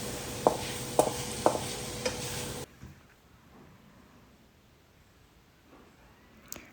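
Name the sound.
stir-frying onions and pork with sauces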